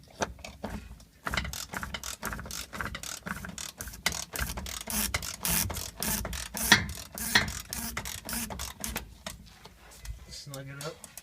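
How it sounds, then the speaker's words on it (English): A ratchet turns a socket on the fuel filter of a Ford 6.4/6.0 Powerstroke diesel, giving rapid, close clicking in quick bursts throughout, with some metallic handling and a few low vocal sounds mixed in. "Turn my ratchet the right way."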